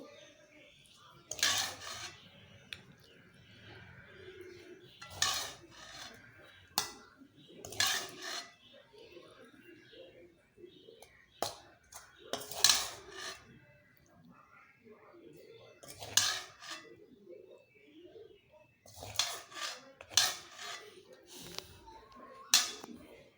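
A cooked okra dish is served from the pot into a bowl, with scattered metallic clinks and scrapes of utensils against cookware spread across the clip, while someone talks in between.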